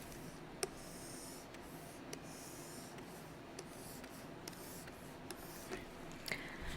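A pen scratching steadily across paper while a table is drawn by hand for a middle-school math lesson, a soft continuous rubbing with faint tapping strokes, close and quiet, no talk.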